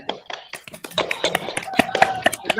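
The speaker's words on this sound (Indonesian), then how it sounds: "Kita beri aplaus dulu" Applause breaks out in a classroom for a student group that just presented, with scattered claps that build into brisk, uneven clapping from several people nearby.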